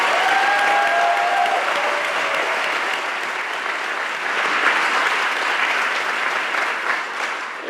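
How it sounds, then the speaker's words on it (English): A school audience at a state-of-the-schools event honoring Overton High School staff and students gives a sustained round of applause, loud and dense throughout with a faint whistle near the start. "Can we give Dr. Jill Pittman, the Overton staff, and the wonderful, extraordinary, phenomenal students that we saw here a round of applause?"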